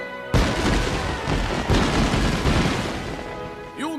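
Fireworks launching and bursting in Ni no Kuni: Wrath of the White Witch, a sudden loud boom followed by a sustained crackling roar of repeated blasts, with a whistling rocket rising near the end.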